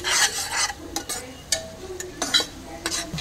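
Tomato paste and spices, including coriander powder, being sautéed in a pan for Khandeshi masale bhaat, with scraping stirring strokes and a faint sizzle, alone with no talk.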